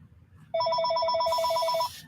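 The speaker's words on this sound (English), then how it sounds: "I've never heard our phone ring so much as it does" A phone's electronic ringtone trills loudly and steadily for about a second and a half in a quiet room, then cuts off.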